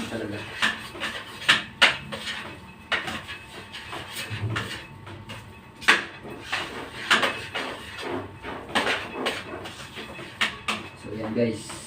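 A utensil scrapes and knocks repeatedly against a cooking pan as food is stirred, irregular close clatters and taps under a speaking voice.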